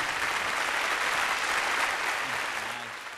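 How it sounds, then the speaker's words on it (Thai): Sustained applause from a sizable crowd at a 50th anniversary celebration, steady and full, fading slightly near the end. "ขอเสียงปรบมือดัง ๆ"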